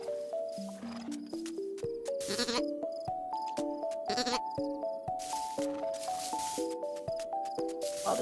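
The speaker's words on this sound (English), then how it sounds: "I'm gonna go poke the sheep." Cartoonish sheep bleats from the video game Carto sound in a repeated, rising sequence of short tonal calls over a steady musical background, fairly loud and with no talking.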